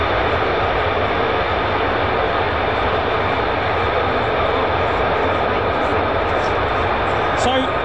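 F-35 fighter jet flying, a loud sustained broadband jet roar filling the whole stretch, steady and close, with faint voices in the background.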